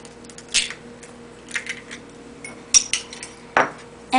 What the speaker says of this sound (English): I'm just using a fork, and you just want to mix this in thoroughly together to make sure everything is combined